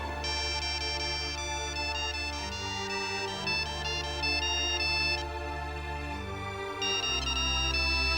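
Mobile phone ringtone playing a repeating electronic melody, clear and steady throughout, with no voices.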